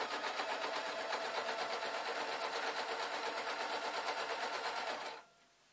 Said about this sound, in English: I've got the strip of fabric and I'm just sewing over it, and I'm sewing over the elastic.